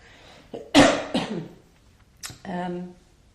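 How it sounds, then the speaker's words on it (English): A single harsh cough bursts out close up, followed by a short throat-clearing sound and a brief voiced exhale. "I'm going to cough."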